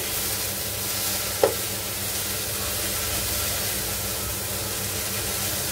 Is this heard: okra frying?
yes